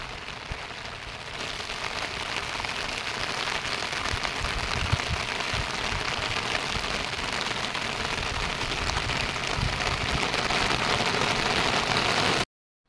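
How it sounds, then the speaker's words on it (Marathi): Steady rain pours down on a surface in a Konkan village, a dense, even hiss that continues without a break before cutting off abruptly. "अचानक पाऊस इलो पावसाचं वातावरण झाला"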